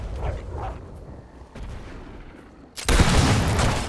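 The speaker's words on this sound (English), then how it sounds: "Just keep shooting explosive barrels." Gunshots hit explosive barrels in the Fable III video game, with a few scattered shots and thuds followed by a loud, sudden blast that rumbles on to the end.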